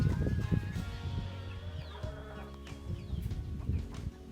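Chickens shut in a coop on a small rural farm cluck and murmur steadily at close range, a dense, continuous chorus of overlapping calls with no talk.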